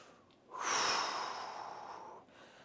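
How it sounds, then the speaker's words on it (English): Breathing during a hamstring stretch in a morning exercise routine: one long, audible exhale that swells quickly and fades over about two seconds, close to the microphone, with no talk. "I notice I am breathing through this whole process."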